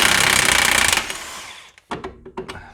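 A power tool whirs in a loud, steady burst while removing a bolt from a 2003 Opel Corsa C front strut, then cuts off, followed by a few sharp metallic clinks and knocks close by.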